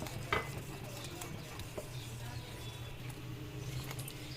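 Dark chocolate dessert mixture is stirred in a pot, with soft, faint scraping and a low background hum throughout and a few light clinks.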